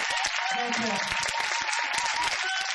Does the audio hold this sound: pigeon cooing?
no